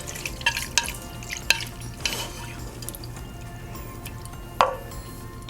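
Udon noodles stirred in sukiyaki sauce make wet, sticky clicks and scrapes against the pan, with a few sharper taps over a faint steady background.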